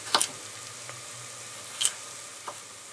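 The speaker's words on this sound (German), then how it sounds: "So, unsere Zwiebeln werden langsam glasig." Carrots, celery and onions cook in a soup pot with a faint, even low sizzle, broken by a couple of sharp metallic clicks and a light tap, quiet and close.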